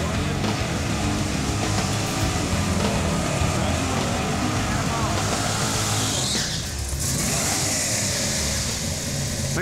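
A 1946 Chevy truck with a 509ci big block and nitrous doing a burnout at a drag strip, a loud continuous engine roar with screeching tires that briefly dips before surging again, people talking over it.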